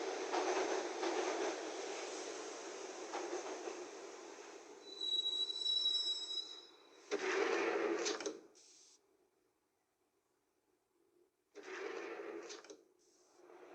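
A train rumbles along with a high, steady wheel squeal, then the noise breaks into separate bursts with quiet gaps between them, in the video game Max Payne.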